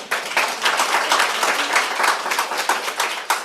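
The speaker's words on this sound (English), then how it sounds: "Can we clap for her as well?" An audience at a climate financing conference applauds, a dense burst of many hands clapping that carries evenly for a few seconds with no voices over it.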